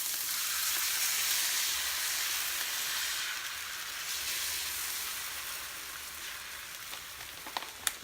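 Egg whites sizzle and fry in olive oil in a pan, a steady crackling hiss that fades slightly toward the end, broken by a couple of sharper pops.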